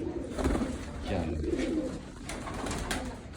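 Pigeons coo in low, throaty bursts nearby, with a brief spoken word and light background rustling around them.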